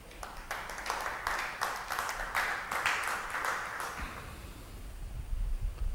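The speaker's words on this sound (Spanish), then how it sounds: "¿Cuántos aplauden al Eterno?" Church congregation applauding in praise during a Spanish-language sermon, a fairly loud run of claps lasting about four seconds before fading into low rumble.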